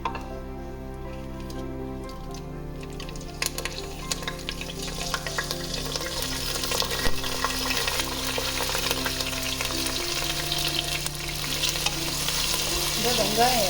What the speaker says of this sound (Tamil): எண்ணெய் நல்லா சூடானதும் வச்சிருக்கிற எல்லா மசாலா ஐட்டத்தையும் இதில் சேர்த்துக்கலாம்